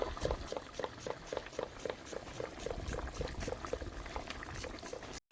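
Water with soaking rice bubbling and boiling in a pot, a steady rhythmic burble heard up close with no talking.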